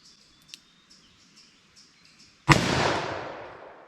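A Fiocchi-loaded .44 Magnum revolver fired double action outdoors lets off a single sharp, loud shot with a long rolling echo, after a quiet stretch of soft bird chirps.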